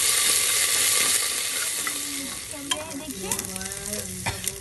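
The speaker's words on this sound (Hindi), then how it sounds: "अब इसमें हम गरम मिर्ची और अदरक लहसुन का पेस्ट सब वो डाल देंगे।" Chili and ginger-garlic paste frying in a pan, giving a loud, steady sizzle with a spoon stirring and scraping through it, the hiss easing a little as the stirring continues.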